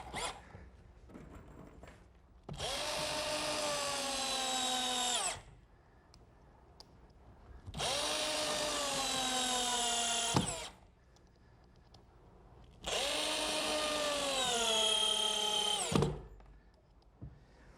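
A power drill drives galvanized 2.5-inch bugle head screws into a wooden picnic table board, three separate whirring bursts of a few seconds each, pitch sliding as the screw seats, with quiet pauses between.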